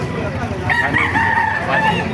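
A rooster crows at a busy chicken market in Baliuag, one long wavering call rising over a crowded background of other fowl and murmuring people.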